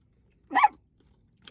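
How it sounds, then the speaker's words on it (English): Dogs let out into a yard behind the house give a single short bark, clear but somewhat distant against otherwise quiet surroundings, followed by a faint second sound. "The guy in the house behind us let his dogs out."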